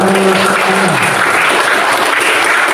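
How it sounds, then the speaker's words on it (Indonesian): Loud classroom applause from students, dense continuous clapping close by, with a brief voice heard at the start under the claps. "Beri tepuk tangan dulu."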